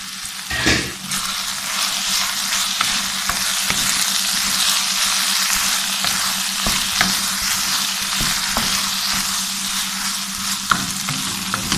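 Aloo matar keema with peas and potatoes fries loudly in a pan, a dense continuous sizzle broken by repeated scraping stirs, close and alone.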